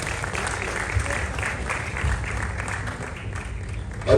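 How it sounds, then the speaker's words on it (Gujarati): Audience applause for Jaybhai at the Creator Fest 2026 program, a dense, continuous roar of clapping from a large crowd, steady throughout and swelling slightly at the end. "એકવાર જોરદાર તાળીઓ જયભાઈ માટે પણ."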